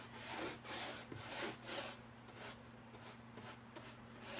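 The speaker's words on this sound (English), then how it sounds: "My brush sounds kind of draggy." Paint brush dragging top coat across a wooden board, a close, soft rasping swish repeated in steady strokes over a low background hum.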